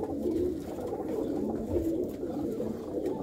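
Pigeons in a loft coo in a low, continuous murmur of soft overlapping calls, faint and steady throughout.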